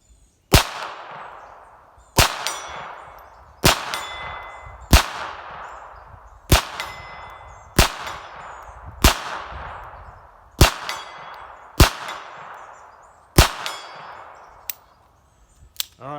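Bullets from a Smith & Wesson 422 .22 pistol strike an orange steel gong about 50 yards out, ten sharp metallic clangs at steady intervals of roughly a second and a half, each ringing briefly before fading, with the shots faint and the range otherwise quiet.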